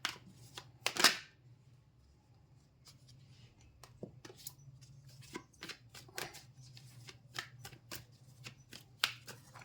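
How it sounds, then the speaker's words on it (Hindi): Tarot cards being shuffled by hand, a run of quiet, irregular papery riffles and soft taps with one sharper burst near the start, close and alone against a low steady hum. "कार्ड्स को मैंने शफल कर लिया है"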